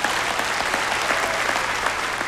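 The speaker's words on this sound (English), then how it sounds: "Give them all a big clap." A crowd at a 2019 awards night applauds steadily, dense clapping filling the room at an even level throughout with no pause.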